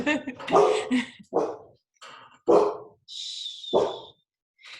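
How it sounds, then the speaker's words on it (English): Dogs barking during a staff meeting call, several short sharp barks in bursts between stretches of talk, fairly close and moderately loud. "Dogs."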